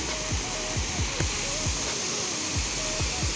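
Steady rushing of river water flowing near a hanging bridge crossing, a constant broadband roar throughout with faint talk and a few soft bumps over it.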